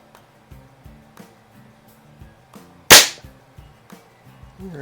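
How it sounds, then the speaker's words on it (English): A Feinwerkbau 124 spring air rifle fires a single shot, one sharp, loud crack followed by a brief decay, standing out against quiet background ticks and low hum. "one last shot with the feinwerkbau."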